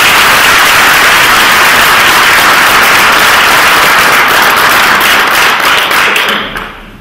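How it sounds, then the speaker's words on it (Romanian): An audience at a national drama festival in Bacău, Romania, claps loudly and steadily, a dense sustained wash of applause that fades in the final second. "Puteți aplaudați până dau pagina."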